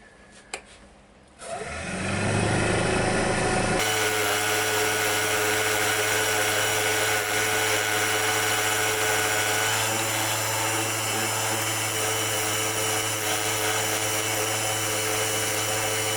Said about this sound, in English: Just needs a bit of fine scraping, rounding off, get rid of these little angles, maybe highlight this lip a little bit more.